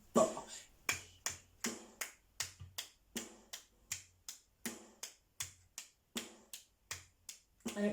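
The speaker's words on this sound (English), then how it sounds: "So after 4, we're going to clap quavers." Steady hand claps in even quavers during a body percussion rhythm lesson, about two crisp claps per second repeating evenly for the whole stretch, close and alone with no talking.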